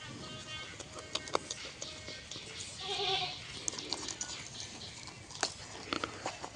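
Goat bleating at a farm, a few short calls rising around the middle among patchy scattered rustling and light background noise, moderately near.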